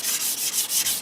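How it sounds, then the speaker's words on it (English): Light rubbing strokes across a model tarmac road surface to distress it, a dry scratchy hiss repeating in six even back-and-forth passes, close and steady with no talk. "I'm just lightly rubbing it across the surface to distress the tarmac ever so slightly."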